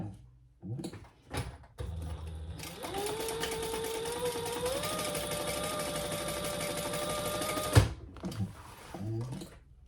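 A sewing machine runs steadily for about five seconds, stitching under a card slot on a leather wallet with a crossbody strap. Brief handling clicks come before and after the stitching, and the whole thing is close and moderately loud.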